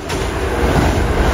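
Kintetsu Osaka Line train rushing past at high speed, a loud close roar of wheels and rushing air that builds steadily through the clip, with no talking.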